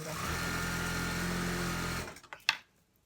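Sewing machine stitching and back-tacking a crotch seam on fleece track pants, a steady close whir running for about two seconds, then stopping with a few small clicks and a short knock.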